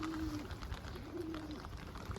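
A pigeon, a little shaken after rain flooded its box, gives two soft, low coos, faint against steady background hiss.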